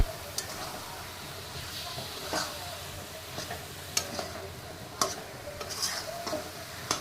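Chunks of taro, coloured with turmeric, fry in a pan with a soft, low sizzle, broken by irregular clacks and scrapes of a spatula stirring them at close range.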